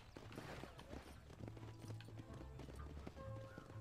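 A horse's hooves clop in a steady, rhythmic gallop in the Western video game Red Dead Redemption, with faint creaks of tack and harness around the beat.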